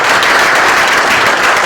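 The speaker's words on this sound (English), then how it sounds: "Please give the panel a round of applause" Audience applause for a panel at a civic event in Lawrence, steady dense clapping from a crowd filling the whole moment at even loudness, with no voices over it.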